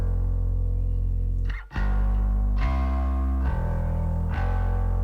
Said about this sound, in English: I've got a bit of chorus on the bass